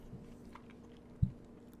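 Soft, close chewing of slightly crunchy pasta in a ground beef meat sauce with pepperoni, with one brief sharper bite or crunch standing out over a low, quiet background.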